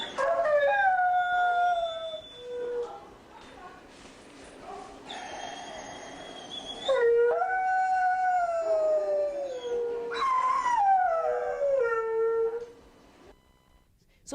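A dog recovering after surgery in an animal shelter howls and whines in long drawn-out wailing tones, loud and close, with rising and falling cries repeated several times.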